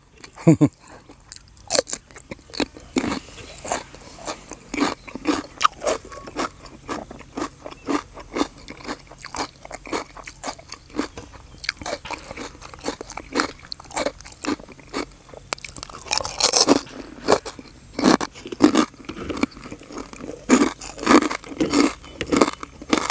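Crunchy pork rinds are bitten and chewed up close, producing a dense run of loud, brittle crackling crunches that continues for over twenty seconds and grows more intense toward the end.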